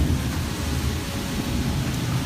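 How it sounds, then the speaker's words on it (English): A storm with strong wind gusts, powerful enough to lift a backyard trampoline, makes a steady, dense roar of wind and rain-like noise. It stays loud and continuous throughout, with no voices. "strong gusts lifted a backyard trampoline into the air"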